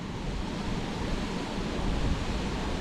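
Fast-running water rushing through a spillway, a steady, dense roar of churning flow with some wind buffeting the microphone, loud and continuous without any voices.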